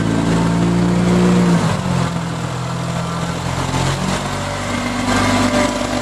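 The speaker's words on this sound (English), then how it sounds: "It's running a Nissan TB42 inline six-cylinder engine" A one-owner Nissan 8k pneumatic-tire forklift with a 4.2-liter TB42 inline six-cylinder engine runs close by, a steady, droning idle that briefly dips in pitch before settling back to an even hum.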